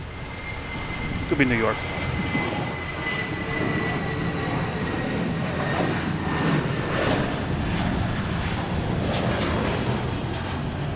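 Aircraft engines rumble steadily at Logan Airport, a broad continuous roar heard at a distance throughout, with a person speaking briefly over it.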